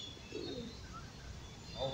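A pigeon with pink markings coos softly outdoors on a city street, faint calls rising briefly over steady background noise and traffic-like hum.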